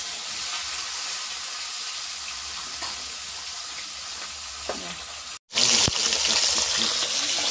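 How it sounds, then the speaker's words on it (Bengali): A fish head fries in a pan with the oil nearly used up, giving a steady close sizzle that breaks off for a moment and then returns louder, with no talk. "মাথাটা মাছটা এখানে ভাজা হচ্ছে আর তেলও প্রায় শেষের দিকেই।"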